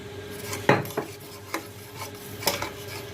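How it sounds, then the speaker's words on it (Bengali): Paneer and makhana being stirred and sautéed in a pan, a handful of distinct scraping strokes and knocks of a spoon against the pan over a faint background. "এটাকে ভালো করে একটু কষাবো"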